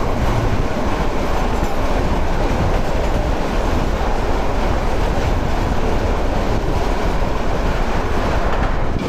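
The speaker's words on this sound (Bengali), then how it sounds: "আমাদের ট্রেন ঢুকতেছে কুমিল্লার নাঙ্গলকোট রেলওয়ে স্টেশনে" A train enters Nangalkot railway station in Comilla, filling the space with a continuous loud, close rumble of wheels and carriages and a steady rattle, with no talking.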